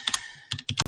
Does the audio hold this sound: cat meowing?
no